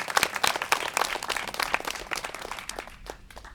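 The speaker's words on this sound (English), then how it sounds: "Please join me in giving a hearty round of applause for Spencer Penrose." Audience applause at an Eagle Scout court of honor ceremony, a steady burst of many hands clapping close by with no talk, gradually thinning and fading over a few seconds.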